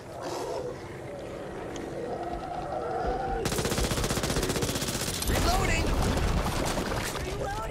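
Rapid automatic gunfire in the video game Back 4 Blood, dense bursts of shots building and continuing loudly over game noise and creature roars, with players talking over it.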